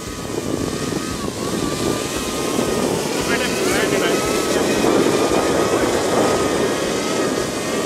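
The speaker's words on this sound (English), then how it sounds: "Wow, this plane is fast." A small electric RC biplane (ElectriFly Reactor Bipe by Great Planes) buzzes steadily and loudly overhead at high speed, its motor whine continuous, with wind noise and people talking beneath it.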